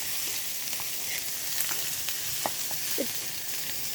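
Dried fish curry with sweet pumpkin frying on a stove in a village kitchen, a steady close sizzle with a few soft stirring scrapes and clinks, no talk.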